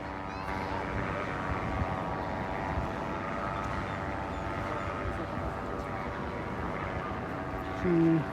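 An airplane flies over a Florida beach at Lauderdale-by-the-Sea, a steady droning engine rumble holding at moderate distance throughout, with faint background voices.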